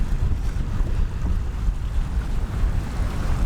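Steady gusts of roughly 15 knots buffet a sailboat's sails at sea, a continuous low rumble of wind noise over sloshing waves, loud and close throughout with no talking.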